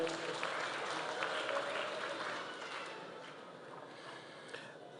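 A crowd at a Kenyan institute's diploma award ceremony applauds, a dense burst of clapping that is fullest at the start and gradually thins and fades toward the end, with faint voices mixed in.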